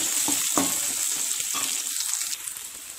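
Onions sauté in a hot pan, a steady bright sizzle and crackle running throughout, with a few soft stirring clinks and scrapes of the utensil near the start; no talk.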